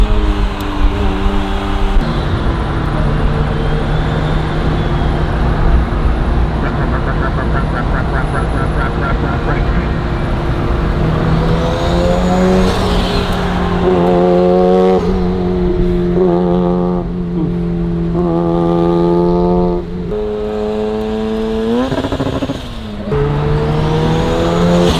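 A powerful car engine roars close by, revving up and down in rising and falling sweeps, with the rumble fading slightly as it moves past.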